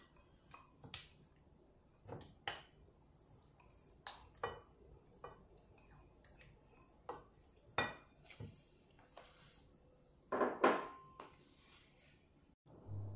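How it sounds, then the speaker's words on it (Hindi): Mutton pieces go into a large bowl for marinating, giving scattered soft clinks, taps and wet thuds at an irregular pace, with a sharper cluster of clatter near the end. "सबसे पहले एक बड़े बाउल में मैं डाल दूँगी मटन"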